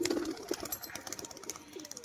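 Large pigeons cooing nearby, a few soft rounded coos spaced through the moment alongside faint chirps and background noise, with no talk.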